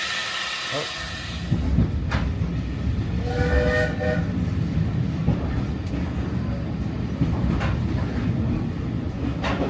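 A steam train on the Bo'ness & Kinneil Railway in Scotland rumbles steadily along the tracks, with a horn-like tone sounding briefly amid the clatter and some faint voices.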